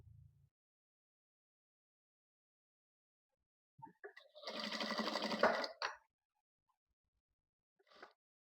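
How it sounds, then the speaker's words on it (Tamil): Overlock sewing machine stitching blouse fabric, a single burst of about two seconds at moderate level, with a brief click after and a short tap near the end, otherwise quiet. "நான் இதுல ஓவர்லாக் போட்டு வந்துடுறேன்."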